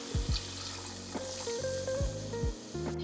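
Water runs from a tap into a pot to cover chicken for Indonesian semur ayam, a steady close splashing fill with gurgling bursts and rising tone as the pot fills.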